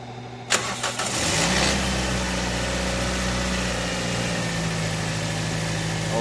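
A Toyota Vios with a misfiring, low-power engine cranks briefly with a few sharp bursts, then catches and settles into a steady, close idle.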